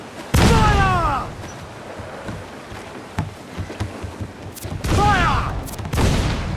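Musket volleys crack out aboard a ship in Assassin's Creed IV Black Flag, with two loud bursts that ring into descending whistling tails and scattered shots between them, under a windy, rumbling background.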